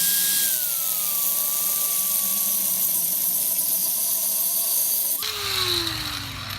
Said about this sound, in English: So we're going to grind that steel cup out real quick.